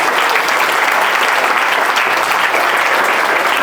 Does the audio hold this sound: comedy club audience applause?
yes